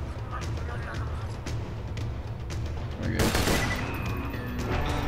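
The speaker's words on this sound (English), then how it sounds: "shooting fast enemies with an inaccurate weapon isn't very fun" Rapid, scattered gunfire from an inaccurate weapon in the video game Borderlands 2, a dense run of shots over steady game background noise, with a louder burst near the middle and voices present.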